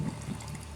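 Santorini wine being poured into a glass, a short, soft liquid trickle close by with a faint gurgle at the start.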